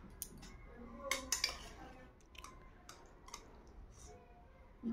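Curry served onto a plate with a utensil, scattered light clinks and taps of metal against dishware, close but fairly quiet against a soft room background.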